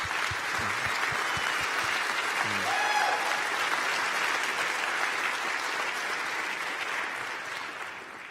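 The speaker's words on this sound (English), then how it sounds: "So a big warm applause for all these helpers and organizers." A conference audience claps for the organizers and helpers, a dense, sustained round of applause that swells and then slowly fades, with a few stray words heard at the start.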